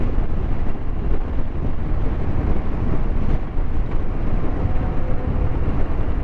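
A brand-new Harley-Davidson Sport Glide 107 with a big V-twin engine rumbles steadily while being ridden, its deep low drone mixed with heavy wind rush, loud and continuous.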